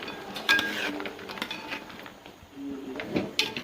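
A spoon scraping and clinking against a pan while banana chips are stirred into thick jaggery syrup over low flame, a few close, irregular metallic knocks and scrapes with no voices.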